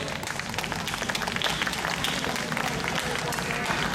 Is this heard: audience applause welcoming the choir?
yes